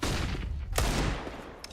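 A scout sniper rifle fires during a professional Counter-Strike match, one sharp crack standing out from a busy background of gunfire and game noise, with a fainter click after.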